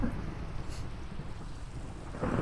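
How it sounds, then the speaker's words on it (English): Thunder rumbles under steady rain in the video game Minecraft, a low broad roll with a hiss of falling water, swelling again near the end, with no one speaking. "It's thundering."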